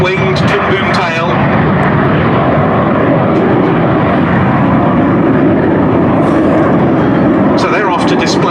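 A MiG-15UTI and a de Havilland Vampire jet depart at a Duxford air display, giving a loud, continuous roaring jet rumble throughout that stays strong and near, with a voice speaking over it.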